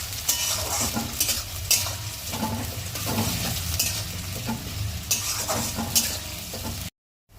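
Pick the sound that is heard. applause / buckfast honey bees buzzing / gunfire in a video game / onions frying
onions frying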